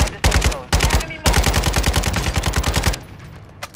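Rapid automatic gunfire in Call of Duty: Modern Warfare II, loud and close, with bursts of sharp repeated shots that break off briefly, then a long sustained volley before it stops, leaving a few faint distant pops.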